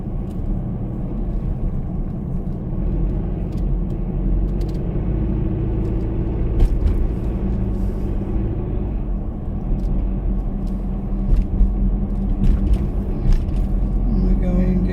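A car heads down onto a freeway near Melbourne Airport, heard as a steady low road rumble and engine drone from inside the cabin, with occasional ticks and light knocks.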